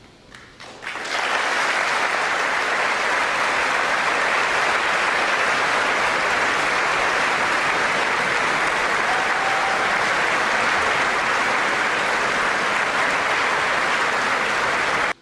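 Audience at a Donald Trump speech bursts into sustained applause and a standing ovation, steady, dense clapping that swells within the first second and holds loud and unbroken to the end.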